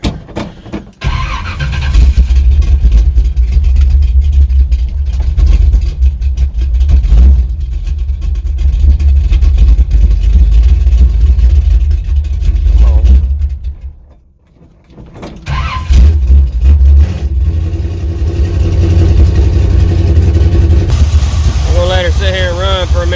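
A Chevrolet C10 truck engine with a carbureted V8 runs loud and steady right after fuel is added to the carburetor, dipping briefly mid-way before settling back into a rough, rumbling idle.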